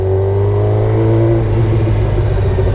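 A motorcycle pulls away in first gear with a loud, close, steady engine note that climbs gently in pitch as it accelerates.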